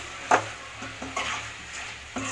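Tomatoes sautéing in a pan for a homemade Tamil-style chicken gravy, with a quiet sizzle and a few soft scrapes and knocks of a spoon stirring, alone.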